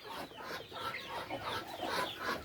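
A pet chicken clucks repeatedly while being held close, its short throaty calls coming in an uneven run over a soft rustle of handling.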